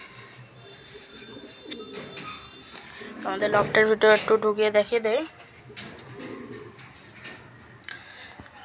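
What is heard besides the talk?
pigeons cooing in a loft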